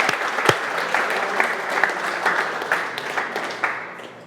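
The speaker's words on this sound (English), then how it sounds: "Round of applause." A round of applause from a team gathering, dense steady clapping from many hands that holds for a few seconds and then fades out.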